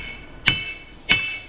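Two sharp, ringing metallic hammer strikes land on a stubborn rear axle part during a 9.5-inch 14-bolt six-lug axle swap, spaced about half a second apart, each leaving a high piercing ring that fades quickly.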